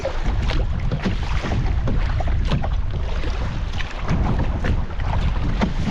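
Strong headwind blows across a solo canoe trip on an Algonquin lake, a constant loud rush of wind buffeting the microphone with water lapping and splashing under the paddling throughout.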